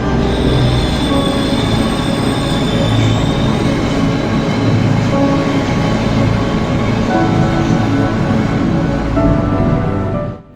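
A train travels in a cutscene from the horror video game Cry of Fear: a loud, continuous rolling rumble with squealing wheels, carrying on steadily with faint music beneath.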